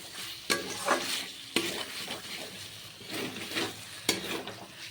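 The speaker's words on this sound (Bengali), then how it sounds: "এবার ভালো করে আবার একটু মশলাটাকে ভেজে নেব" Spice paste fried and stirred in a pan for a soya chunk, capsicum and poppy seed dish: a few sharp spoon scrapes against the pan over an uneven close sizzle, with no voices.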